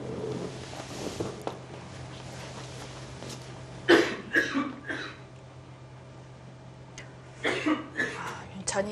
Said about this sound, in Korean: 잠시 일어나면서도 기침을 하는 모습입니다